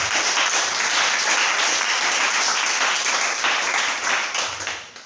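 A church congregation at an evangelical service breaks into loud, sustained applause that fills the room with dense clapping and faint cheering, fading slightly toward the end.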